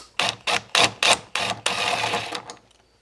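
A cordless power driver or impact tool run in reverse to back out a fastener, used on furring strips in a Dodge ProMaster van ceiling, gives several short loud bursts of whirring and rattling, then a longer run that fades out.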